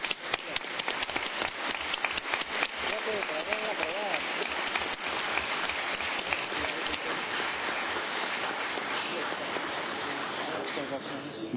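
Applause at an Organization of American States session, a dense, steady patter of many hands clapping in a large hall, with voices audible beneath it.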